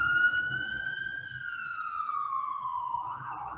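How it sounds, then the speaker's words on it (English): Emergency vehicle siren heard from outside, a steady wailing tone sweeping slowly downward and rising again at the end, continuous throughout at moderate level with faint background rumble. "Sorry, excuse the sirens."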